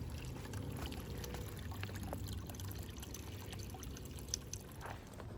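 Water runs steadily from a spring into a water bottle on an Appalachian Trail hike, a continuous faint trickling pour with no talk.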